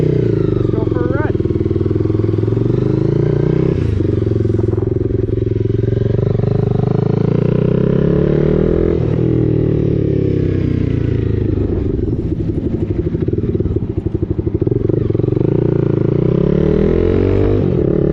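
A motorcycle with a loud, throaty SC Project aftermarket exhaust rides steadily, the engine note rising and falling through gear changes, close and prominent throughout.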